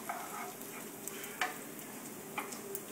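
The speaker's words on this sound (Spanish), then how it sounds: "hay que estar moviendo y moviendo el arroz, porque si no se quema y queda mal" Rice being stirred in a pot, a steady scraping and faint sizzling bed broken by a few sharp clicks of a utensil against the pot, close and alone with no talk.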